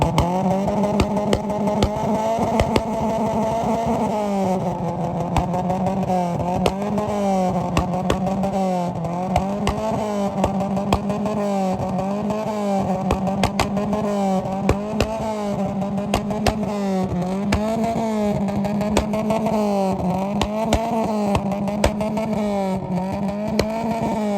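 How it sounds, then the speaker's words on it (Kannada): A red Ferrari with a JW Tunes exhaust revs on Bengaluru streets, its loud close engine note rising and falling in repeated throttle blips over a continuous roar. "ನನಗಂತೂ ಈ ಗಾಡಿ ಬ್ಯಾಂಗರ್ ಸೌಂಡ್ ಕೇಳಿ ಕಿವಿ ಅಂತೂ ಹೋಗ್ಬಿಟ್ಟಿದೆ"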